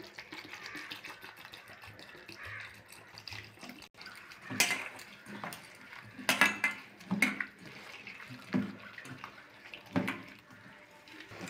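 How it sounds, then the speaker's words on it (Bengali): Water is poured over soybeans and drained off while they are rinsed in a bowl, with splashing, sloshing and occasional clinks of the container, moderately close. "এই জলটা ফেলে দেবো, আর একবার ধুয়ে নেব। আবার জল দিয়ে দিচ্ছি।"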